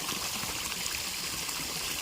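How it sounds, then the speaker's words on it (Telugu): Water gushes from the outlet of a farm motor pump beside a cotton field, a steady close splashing rush that holds evenly throughout with no talking. "కూలం కాడికి వెళ్ళాం, వాటర్ పోస్తుంది, ఇట్లా వాటర్ తాగుతున్నాం."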